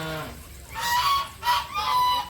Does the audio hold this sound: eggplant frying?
no